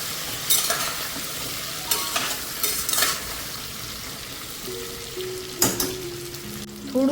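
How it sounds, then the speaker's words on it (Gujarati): Vegetable curry for a Kathiyawadi Gujarati thali sizzles in a pot as a spoon stirs it, with several scraping strokes and clinks over a continuous fry hiss, close and moderately loud. "હવે આપણે મિક્સ કરી લઈશું શાક સબ્જી."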